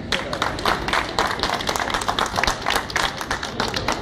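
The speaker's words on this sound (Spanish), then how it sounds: "Así un aplauso fuerte para los bailarines" A crowd at a Buenos Aires tango night applauds the dancers with dense, continuous clapping that stays loud and steady throughout, individual claps blurring into a lively wash.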